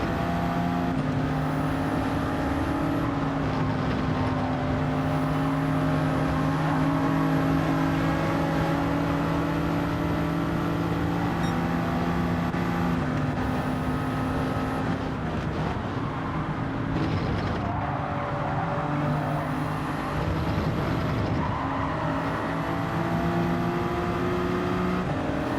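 Genesis race car in Gran Turismo 7, engines wailing at high revs with rising and falling pitch through gear shifts, several cars close together, loud and continuous, no voices.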